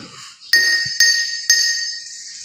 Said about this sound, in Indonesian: kita memukulkan sendok tersebut di samping gelas, dan gelas tersebut akan mengeluarkan suara